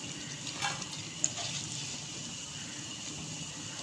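Palak sandwich pakoras deep fry in hot oil, giving a steady, even sizzle throughout with a couple of faint clicks early on, close and moderately quiet.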